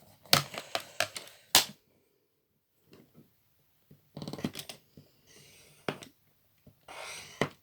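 Card stock being scored in the groove of a paper cutter and folded with a bone folder, heard as sharp crisp paper scrapes and creases in short bursts with quiet gaps between, close and fairly loud.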